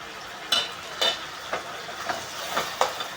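Tomatoes and spring onion cook in a pan, a low steady sizzle broken by about six sharp scrapes and clinks of a spoon against the pan at regular intervals.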